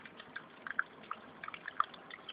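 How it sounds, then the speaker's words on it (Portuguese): Water from the filter of a simple artificial fish pond trickles and drips softly, with faint irregular droplets over a low steady flow. "Aqui eu montei um filtro, né?"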